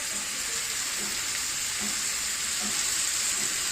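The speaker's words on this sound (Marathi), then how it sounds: "सगळ्या भाज्या परतून घ्यायच्या" Cabbage, capsicum, onion and spring onion stir-fry in a pan for homemade veg noodles, giving a steady, close, continuous sizzle with no talking.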